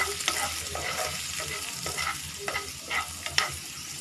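Spices and chaat masala frying in oil for a cheesy samosa filling, an even close sizzle with rhythmic stirring strokes and light spoon clicks, no one speaking.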